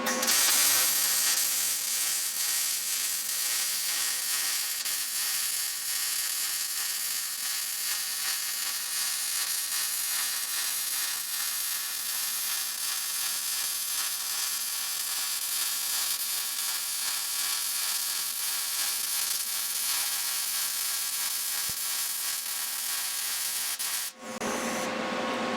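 Sustained arc welding on a Bronco II project, a steady loud crackling hiss running continuously for most of the span before cutting off abruptly near the end, with no talk over it.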